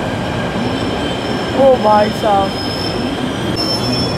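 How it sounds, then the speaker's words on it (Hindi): A Delhi Metro train pulls into a crowded station, its wheels squealing in short pitched bursts over a steady rumble, with someone speaking briefly over the noise. "सो गाइस आ गई मेट्रो"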